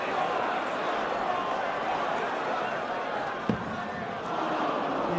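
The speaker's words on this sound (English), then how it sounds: "as you can hear the reaction from the crowd" Darts crowd at a PDC Premier League match reacting to a throw, a steady murmur and buzz of many voices filling the arena, with a single sharp thud partway through.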